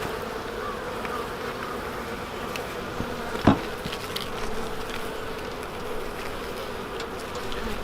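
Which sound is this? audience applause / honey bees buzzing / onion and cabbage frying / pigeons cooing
honey bees buzzing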